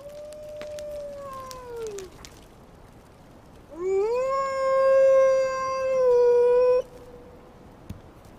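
A wolf gives a faint, sliding howl that trails off, then after a pause a louder, sustained howl holds steady for about three seconds before cutting off, alone with no talking.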